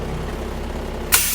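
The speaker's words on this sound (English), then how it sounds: "I already had the truck running for a little bit, got her warmed up" A warmed-up truck engine idles with a steady low rumble, then a sharp hiss of air bursts out near the end and lingers.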